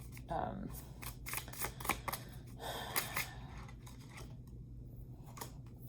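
Crisp papery riffling and snapping of tarot cards being shuffled, a few quick bursts close by, with faint background noise.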